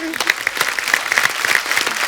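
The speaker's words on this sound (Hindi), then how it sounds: "एक बार जोरदार तालियां हो जाए।" A studio audience on a TV comedy show applauds, a brief, steady patter of claps filling the room at moderate volume.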